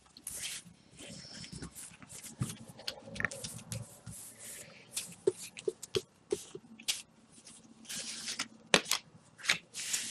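Oracle cards being shuffled by hand, a run of soft irregular papery riffles and taps close by, with faint background noise.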